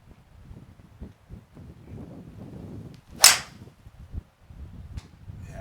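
A single golf shot struck with a TaylorMade M1 rescue club, one crisp sharp impact near the middle of the clip, standing out above quiet outdoor wind and low background rumble.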